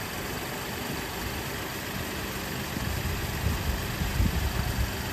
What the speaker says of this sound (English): So I just started the car.